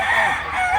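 A rooster gives a short, bright crow at a busy poultry market, brief and fairly close against a light background murmur.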